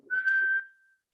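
A person whistles with the mouth, giving a single clear steady tone about half a second long that tapers off softly, close and alone.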